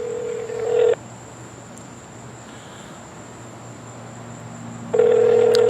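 A phone call on speakerphone rings out as a loud electronic ring tone that cuts off, leaves a few seconds of quiet line hiss, then sounds again as a second ring burst.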